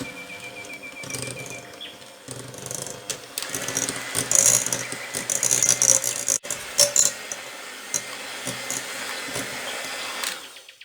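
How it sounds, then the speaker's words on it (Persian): An electric mixer beats cream with added cocoa for a Prague cake, a steady whirring drone that grows louder and rougher midway as the beaters work the mixture, then settles back to an even hum. "باز با میکسر میزنیم."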